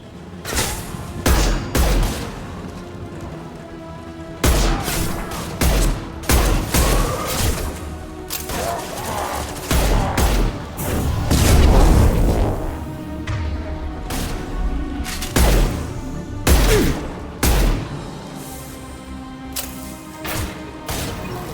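Rapid bursts of gunfire from a Mass Effect 2 firefight, loud and close, with repeated volleys and sharp single shots spread across the whole stretch, plus occasional heavier booms and crashes.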